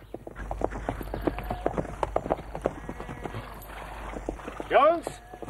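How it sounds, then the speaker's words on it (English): Horse hooves clip-clop in a quick, steady rhythm close by, ending with a short neigh, over a low background rumble. "Horses."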